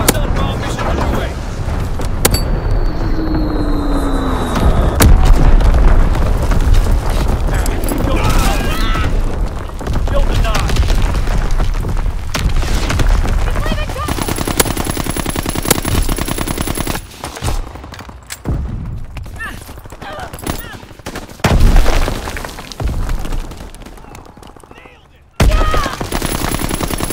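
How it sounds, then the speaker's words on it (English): A Call of Duty WWII match set in the Shipment 1944 map erupts with dense, continuous gunfire and heavy explosions from a bombing run. Booms and rattling shots overlap densely throughout, with a few brief lulls. "Zone bomb mission underway."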